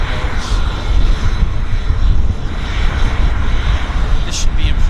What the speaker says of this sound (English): We're going to get an amphib takeoff with the Twin Otter.